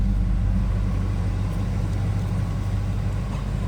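A 1979 Chevrolet Camaro Z28 engine running steadily, a deep, continuous rumble heard close by, even in level with no revving and no voices.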